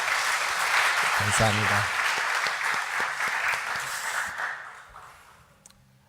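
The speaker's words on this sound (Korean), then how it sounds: "샘솟는 샬롬 목장에게 격려의 박수 부탁드리겠습니다" A church congregation at an afternoon service claps for the Shalom group, a steady roomful of hands that gradually thins and fades toward the end, with a brief spoken voice partway through.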